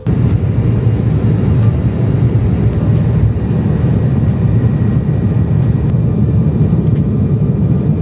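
An American Airlines airliner departs Chicago's airport, a loud continuous broadband engine roar and rumble heard from inside the cabin, with no talking.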